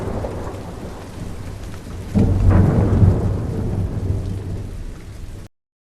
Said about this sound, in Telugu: అది కట్టేటప్పుడు అవసరమైనప్పుడే వర్షం పడేది